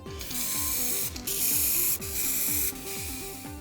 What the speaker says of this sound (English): I'll repaint while angling the spray like this.